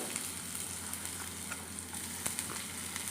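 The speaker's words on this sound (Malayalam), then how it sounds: "നമ്മുടെ കടുക് പൊട്ടുന്നുണ്ട് അപ്പോൾ നമ്മുടെ കുഞ്ഞുള്ളി അരിഞ്ഞതും കൂടെ നമുക്ക് അതിനകത്തേക്ക് ഒന്നിട്ട്" Mustard seeds pop and chopped shallots sizzle in hot oil for Kerala okra mappas, a steady dense crackle with scattered sharp splutters close up and no talk.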